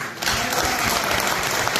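Sustained applause fills a parliament chamber, a dense wash of many hands clapping at once, loud and steady throughout with no clear breaks.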